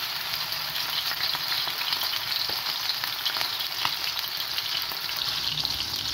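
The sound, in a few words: chapli kebabs frying in hot oil on a griddle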